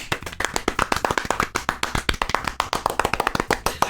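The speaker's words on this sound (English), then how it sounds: "The four of us applaud" Applause from the four members of a literature club in the game Doki Doki Literature Club, a close, rapid run of crisp hand claps keeping a steady, busy rhythm for several seconds with no voices.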